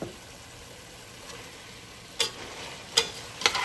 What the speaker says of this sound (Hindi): अभी मैंने चिकन डाल दिया, चिकन अच्छे से भून लेंगे